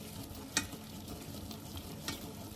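A spoon stirs sweet bean filling with added sugar in a pot, giving a soft, continuous scraping and bubbling texture with a couple of brief louder knocks.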